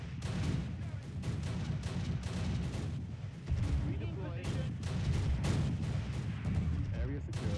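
Continuous battle noise in the Close Combat game at Pegasus Bridge, dense rolling gunfire and heavy thuds layered in a steady roar throughout, with voices talking underneath.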